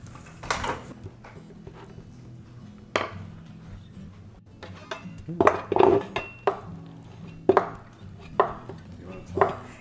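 Almonds are stirred into caramelised sugar in a pan for torrone, giving close, scattered clinks and scrapes of a utensil against metal, with a few sharper knocks between quieter moments.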